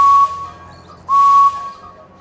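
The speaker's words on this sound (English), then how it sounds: "I have a splendid whistle." A steam engine whistle in a Thomas & Friends game gives two clean, piercing toots, a short one then a longer one, loud and close against near silence.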